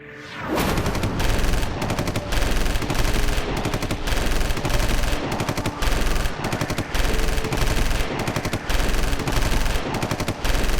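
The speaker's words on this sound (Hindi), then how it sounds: "बहुत बरसाली गोलियां" Sustained machine gun fire rattles in dense, continuous bursts with short gaps, loud and close, in a dramatized horror-war scene with soldiers fighting terrorists.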